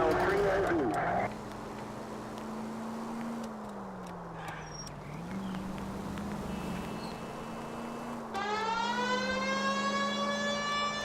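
A police car siren in the L.A. Noire video game wails in a slow rising and falling tone under steady engine noise while someone talks over it, and a sharper, higher siren tone cuts in near the end.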